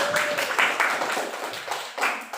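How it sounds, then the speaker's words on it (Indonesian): A short burst of scattered clapping from a group of students in a junior high school classroom, a few seconds of uneven applause heard from nearby. "Tepuk tangan dulu untuk kelompok 3"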